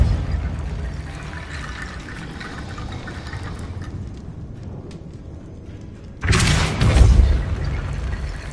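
A Depulso spell cast in Hogwarts Legacy lands as a sudden loud whooshing burst with a heavy low rumble, then slowly fades. Before it there is only a quiet, steady ambient bed.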